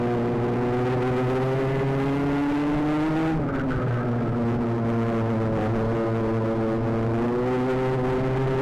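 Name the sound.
karts racing past on a sprint circuit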